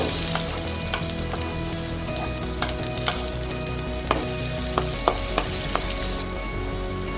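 Chopped small onions and a pinch of asafoetida fry in a hot pan, giving a dense, steady sizzle punctuated by sharp, irregular pops and spatters, with a few clicks of a utensil.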